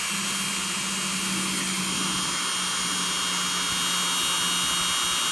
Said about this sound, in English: I'm going to focus on those areas right there with the Dremel